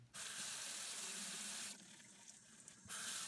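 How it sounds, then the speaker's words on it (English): Tap water runs steadily into a kitchen sink while potatoes are rinsed, a loud, close, continuous rush that thins briefly in the middle before surging again. "So I gave the potatoes a good rinse."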